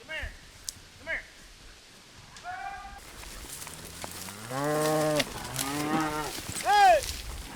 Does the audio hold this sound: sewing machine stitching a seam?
no